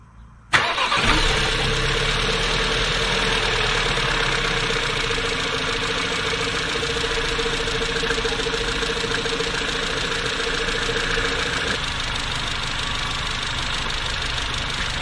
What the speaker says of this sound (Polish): odpalamy go na jakieś 10-15 minut i niech sobie pochodzi